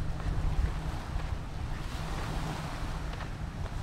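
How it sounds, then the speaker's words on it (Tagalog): Sea waves washing in at a public seaside in Kuwait on a summer day, a continuous broad rushing wash mixed with wind buffeting the microphone, steady and fairly loud throughout with no voices. "Libre lang maligo dito sa dagat ng Kuwait, sa Seaside Mahabula."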